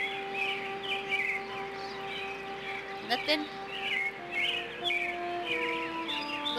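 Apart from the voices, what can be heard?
birds chirping in the video game Amnesia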